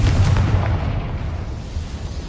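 A Confringo fire spell explosion in Hogwarts Legacy, a loud, booming blast with heavy low rumble that fades slowly over about two seconds.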